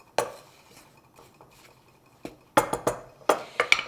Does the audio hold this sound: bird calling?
no